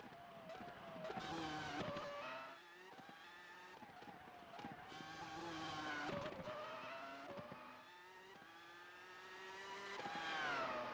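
Formula racing car lapping the Detroit street circuit during qualifying, its high-pitched engine screaming loud and near with repeated rises and drops as it brakes and accelerates through corners.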